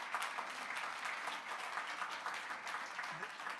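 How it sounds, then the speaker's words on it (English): A launch-event audience applauds, a steady wash of many hands clapping at moderate distance, continuous and without speech on top. "So I think that they deserve a huge round of applause for the technical work."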